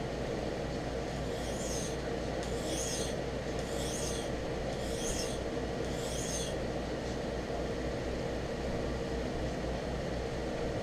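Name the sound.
sharpening a knife on a sharpening stone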